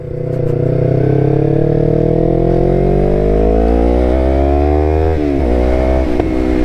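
Yamaha R3 streetfighter motorcycle with an M4 full exhaust, up close and loud, revving in one long rising pull before the pitch drops and it settles back briefly.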